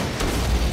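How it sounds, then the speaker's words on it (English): A core detonation explosion in the video game Disintegration: a deep, loud boom with a sharp onset, rolling on as a heavy low rumble for under a second, with no voices. "Core detonated."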